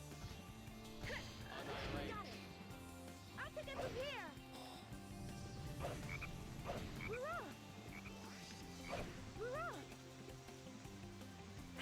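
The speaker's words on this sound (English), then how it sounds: "Detecting a frog in the vicinity." Repeated cartoonish frog croaks from Sonic Heroes, several in a row at a steady pace, over busy game music and effects.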